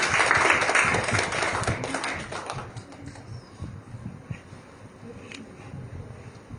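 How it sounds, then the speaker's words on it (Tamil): A church congregation gives a short round of clapping to welcome newcomers, loud at first and then thinning into scattered claps and fading within about three seconds, leaving quiet room sound with a few faint taps. "அவங்களுக்கு ஒரு கைத்தட்டை கொடுத்து அவரை நாம் வரவேற்போம்."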